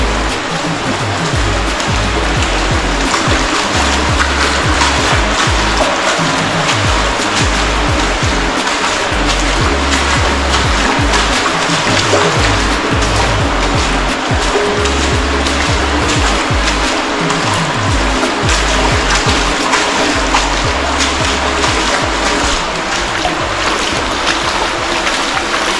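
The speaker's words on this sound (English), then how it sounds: "Just splashing my way through" Continuous loud rushing and splashing of water as someone wades through a storm drain off the Mississippi River, echoing in the enclosed space, steady throughout with no talking.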